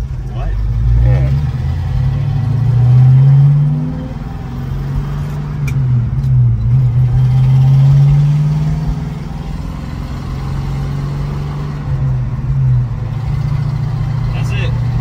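An original 1965 Ford Mustang V8 drives along with a loud, steady engine rumble that swells and eases as it changes speed, while people talk inside the car.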